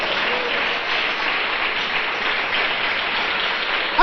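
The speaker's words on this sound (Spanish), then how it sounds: "Podemos darle aplausos al Dios de la gloria." A church congregation applauds God during a sermon, with sustained, even clapping from many hands that holds steady and full from start to finish.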